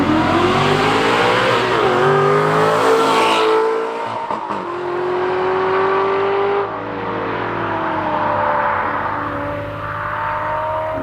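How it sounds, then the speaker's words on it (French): An Aston Martin V8 Vantage S is heard from outside, its loud V8 engine revving and surging through gear changes, with a brief dip before it pulls hard again and passes by. "Le son est incroyable sur la voiture."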